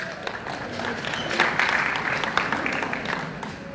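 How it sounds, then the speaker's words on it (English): Audience applause at a temple society's annual prayer and awards event, moderate clapping with scattered sharp claps mixed with background voices and crowd murmur. "Let's give them a round of applause"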